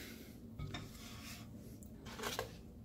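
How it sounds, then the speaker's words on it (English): Quiet clinks and a light scrape of crockery, a ceramic plate set down over a bowl of food to cover it in a microwave, with a soft rub before a brighter clink near the end. "Put a plate over it."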